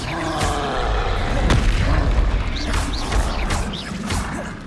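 The Expelliarmus disarming spell in Hogwarts Legacy lands as a heavy booming impact with a sharp crack, followed by rumbling mechanical clatter and whooshing effects, loud and close throughout.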